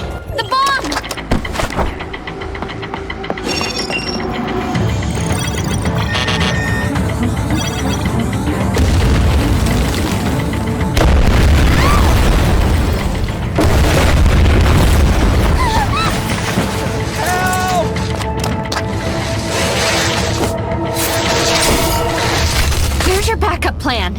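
A bomb goes off in Tower of Fantasy with loud booms and shattering crashes amid a busy game soundtrack, while voices talk over the action.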